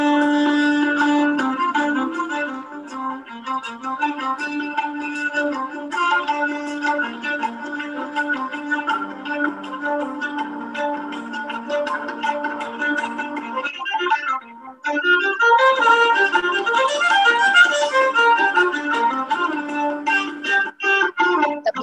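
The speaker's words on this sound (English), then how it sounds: "So that was the sound of the violin." Violin playing Carnatic music, a solo melodic line with sliding ornamented notes that continues for about twenty seconds, close and clear with a brief dip midway and no talking.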